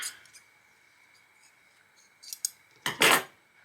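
Scissors snip leftover yarn from a crochet edge on a double-layered fleece blanket, giving a few short, crisp cuts near the end, close by in a quiet room.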